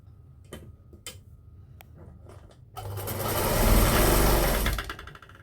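A sewing machine runs a continuous, loud stitching seam on lace-trimmed cloth, preceded by a few sharp ticks and clicks as the fabric is positioned, with no talking.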